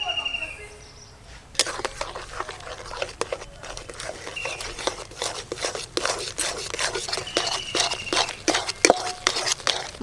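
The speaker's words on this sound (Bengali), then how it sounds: "খুন্তি দিয়ে এইভাবে আমি সব সময় নাড়তে থাকবো" A spatula scrapes and stirs ghee-fried flour in boiled milk for carrot halwa, making repeated short scratchy strokes close up, with someone speaking over it.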